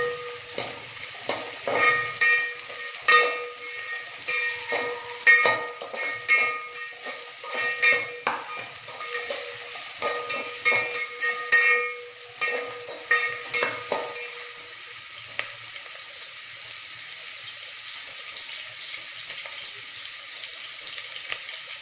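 Chicken biryani ingredients, onion among them, sizzle and are stirred in a pan, with frequent scraping clicks and a steady frying hiss that eases to a quieter sizzle in the last stretch.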